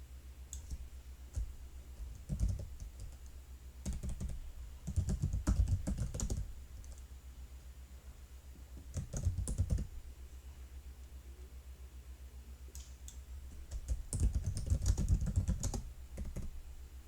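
Keys clatter on a computer keyboard in irregular bursts of typing, separated by short pauses, close and fairly clear with no talking.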